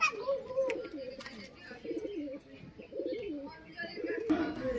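Abluk and Giribaz pigeons coo in low, rolling bursts throughout, mixed with chatter and background noise from a busy loft.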